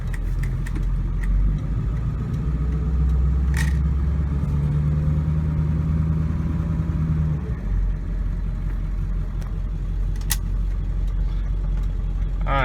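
A 2001 Ford F250 Powerstroke diesel pickup with a freshly rebuilt transmission drives along, its engine a steady low drone with a smooth pitch change as it shifts, heard from inside the cab.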